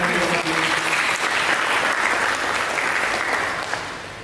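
A church congregation applauds in a dense, even wash of clapping that holds steady and tapers slightly near the end.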